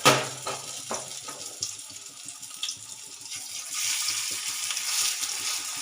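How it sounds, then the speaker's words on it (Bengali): Onion flower and cauliflower pakoras drop into hot oil and fry with a steady hissing sizzle, with occasional clinks and light handling noises over the bubbling. "নিয়ে এবার আমি এক এক করে আমার পাকোড়াগুলো দিতে থাকবো।"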